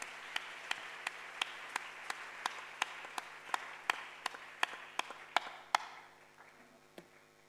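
A church congregation claps in unison, a steady rhythm of sharp, evenly spaced beats that goes on for several seconds before stopping, with a faint murmur of voices underneath.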